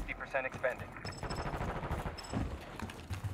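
Rapid automatic gunfire rattles in the video game Black Ops 6 as players talk over the shooting, with sustained bursts and a few higher electronic tones.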